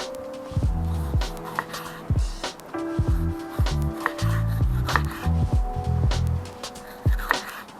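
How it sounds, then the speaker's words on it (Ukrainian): A knife slices sweet pepper into thin rings on a cutting board, repeated irregular crisp cuts close by, with no talking. "Тоненькими кільцями нарізаю солодкий перець."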